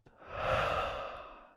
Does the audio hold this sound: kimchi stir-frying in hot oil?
no